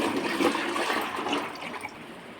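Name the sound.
pouring mango pickle liquid back into a container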